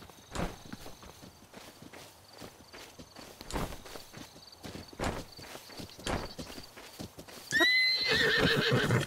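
A horse in the video game Zelda: Breath of the Wild clip-clops in a steady walking rhythm of hoofbeats, then lets out a loud, wavering whinny near the end.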